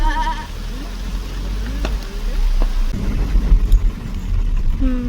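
A young calf bleats a few drawn-out calls over a steady low rumble and background noise.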